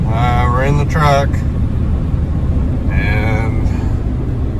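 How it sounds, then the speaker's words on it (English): Road rumble inside a moving truck cab, a low continuous drone under brief talking from a man. "we're in the truck"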